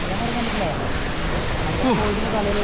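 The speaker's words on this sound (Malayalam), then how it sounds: "ഇപ്പൊ നമ്മള് വെള്ളച്ചാട്ടത്തിന്റെ ഏറ്റവും ടോപ്പിൽ" Steady broadband rush of the Njandirukki waterfall near Thodupuzha, heard from the top of the falls, continuous and fairly loud with a faint voice or tonal sweep drifting through.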